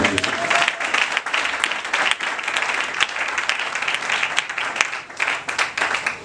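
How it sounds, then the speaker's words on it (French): A church congregation applauds and cheers loudly for the Lord, steady dense clapping with shouts throughout, filling the room without letup. "Est-ce qu'on peut acclamer très fort pour le Seigneur?"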